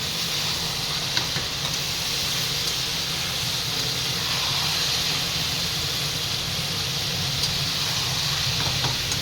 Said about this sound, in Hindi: ये देखो मेरी तुरई अच्छे से चटक रही है।